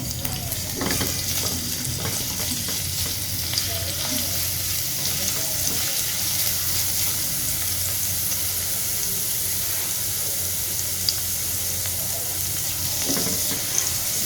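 Crushed garlic fries in hot oil, a steady soft sizzle and crackle with occasional stirring scrapes, fairly quiet and without talk over it.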